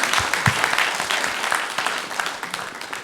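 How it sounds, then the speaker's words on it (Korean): A church congregation at a Sunday morning worship service applauds together; steady, dense clapping at close range for the whole stretch, with no voices heard. "우리 영광의 박수를 우리 하나님께 올려드리겠습니다."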